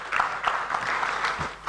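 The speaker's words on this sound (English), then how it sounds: "Shall we give him a round of applause" Brief round of applause for a speaker at an African inter-parliamentary conference, soft and somewhat distant with steady clapping.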